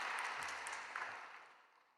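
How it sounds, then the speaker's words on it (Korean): A church congregation at an early-morning service applauds after the sermon, a soft, distant roll of clapping in a large hall that fades out over about two seconds. "은혜의 말씀을 전해주신 성사님께 다시 한번 감사의 박수"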